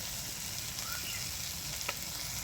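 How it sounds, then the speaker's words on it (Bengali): Ginger-garlic paste sautéing in a pan for a spicy Bengali curry with ridge gourd, potato and prawns gives off a faint, steady sizzle and fry hiss with no talking over it. "এটা ভালো করে কষিয়ে নেব যতক্ষণ না আদা রসুনের কাঁচা গন্ধটা চলে যাচ্ছে"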